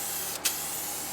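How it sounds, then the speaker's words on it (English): A can of Rust-Oleum Custom 5 in 1 spray paint fitted with a narrow nozzle sprays in one steady, close hiss, with a brief pause in the middle. "you're more apt to get it run with the like narrow spray"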